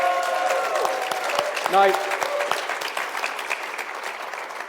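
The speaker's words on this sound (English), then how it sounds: "So give her a big round of applause, everybody." Audience applause welcoming a party leader and Minister of Justice at a political event, a sustained wash of crowd clapping that fills the room, with a voice briefly speaking over it and a short tonal sound midway.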